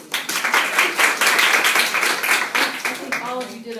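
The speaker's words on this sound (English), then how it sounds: "Let's give some applause." A classroom audience of students claps after a poem recitation in a writing lesson, brisk, uneven applause with audible individual claps, tapering off near the end as a voice begins speaking.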